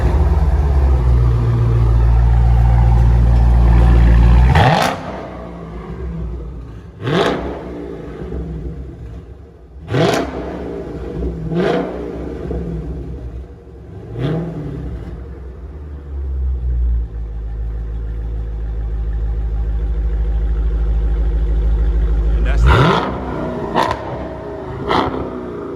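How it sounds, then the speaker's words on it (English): A Dodge Scat Pack running with its mufflers and resonators deleted cranks to life with a loud, deep rumble and then settles into a burbling idle. A series of sharp revs follows, and a few more quick blips come near the end. "he's about to start his car right now."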